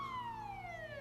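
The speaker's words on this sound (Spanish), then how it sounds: "Oh, genial, sirenas." An emergency vehicle siren wails steadily and loudly throughout, its tone sliding gradually downward as a road vehicle passes, with no talk over it.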